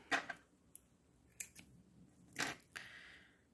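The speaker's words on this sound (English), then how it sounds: "I'm just going to cut it off" Scissors snip the thread of a handmade fringe beaded earring, several quiet, sharp cuts spread apart with two louder snips near the end, close by in a quiet room without talk.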